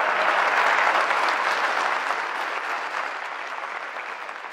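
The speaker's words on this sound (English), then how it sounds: "Now that deserves a round of applause." An audience at a student KleinTalks event applauds a winning vegan burger story, a broad, sustained wave of many hands clapping that starts full and slowly tapers off.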